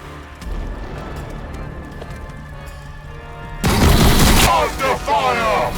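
Gunfire in a Warhammer battle between Tyranids and Blood Angels: a steady patter of distant shots and battle clatter, then a sudden louder burst of fire with shouting voices mixed in near the end.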